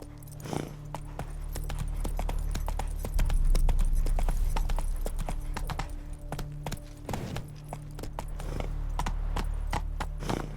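Horse hooves in The Witcher 3 beat out a rhythmic clip-clop, close and clear, over a low steady drone, with a brief heavier thud partway through.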